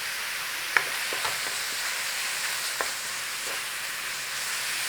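Mince frying in a pan, a steady soft hiss of sizzling with a few faint scrapes and taps from stirring, close and even, no talking.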